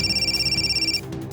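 A phone ringing in a fast pulsing electronic trill that cuts off abruptly after about a second, followed by low background noise.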